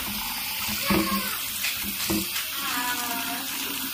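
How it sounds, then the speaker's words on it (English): Food rinsed under a running kitchen tap, a steady close splash of water with a few louder bursts as the food is shaken in the stream, with no talk. "Give it a good rinse, rinse, rinse."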